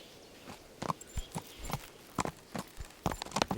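Horse hooves clip-clop in irregular, fairly close steps in the medieval video game Kingdom Come: Deliverance, with a few sharper thuds in between and no talk.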